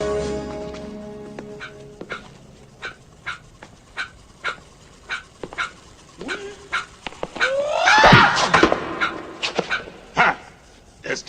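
A dog in a movie scene gives a string of short, regular barks and yips, with a whimpering whine in the middle, mixed with brief speech and other scene sounds.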